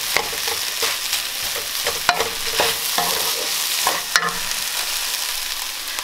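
Pineapple fried rice made with leftover cooked rice is stirred and tossed in a hot pan, giving a continuous close sizzle with repeated scraping and clanking of the utensil against the pan, and no talking.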